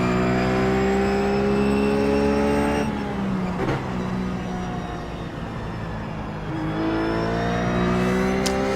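A Ruf GT3 race car engine in iRacing at Brands Hatch, a loud steady high-pitched drone that drops off under braking and coasting, then rises again as the throttle comes back on.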